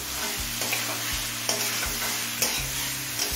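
Bitter gourd, potato and chicken are sautéed in a pan over a medium flame, with a close, steady sizzle broken by regular scraping stir strokes about once a second.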